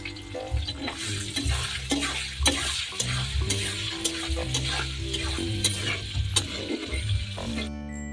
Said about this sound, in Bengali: তেলটা গরম হয়ে গেছে, পেঁয়াজ কুচি দিচ্ছি।